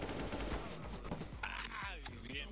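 Bursts of Counter-Strike gunfire crackle at a low level, with a few sharp shots toward the end and a voice murmuring underneath.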